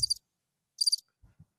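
A cricket chirping sound effect played on a podcast, heard as short, bright trilled bursts repeating at regular intervals, loud and close, with brief soft low sounds between them and no talking.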